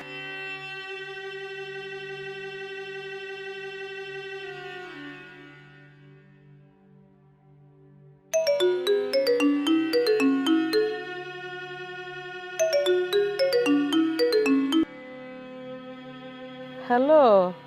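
A mobile phone rings as a call is placed in a Bangla drama scene: a sustained tone fades out, then a bright plucked ringtone melody plays in repeated bursts, fairly close and alone.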